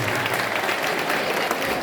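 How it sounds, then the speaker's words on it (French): A short burst of applause from a crowd at a school event in Haiti, dense clapping at a steady level throughout. "Applaudissements s'il vous plaît."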